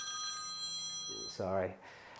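A telephone rings during a lecture, a steady ringing tone heard at moderate distance, with a voice speaking over it partway through.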